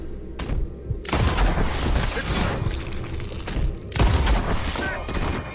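Explosive rifle rounds in Red Dead Redemption 2, heavy booming shots with long crackling tails, several close together, and a voice faintly underneath.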